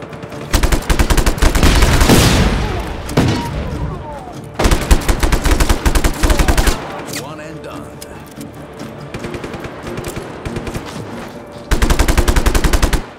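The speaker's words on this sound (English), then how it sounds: "Who's shooting at me?" Gunfire in Just Cause 3, loud sustained machine-gun bursts hammering in several long stretches separated by quieter gaps of combat noise, close and dense.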